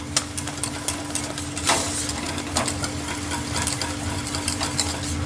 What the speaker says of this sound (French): En même temps, je remue mes cerises.